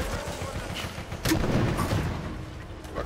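Gunfire in the video game Operation Raccoon City, a burst of booming shots with rumbling low end at close range, continuing as a dense barrage through the rest of the moment.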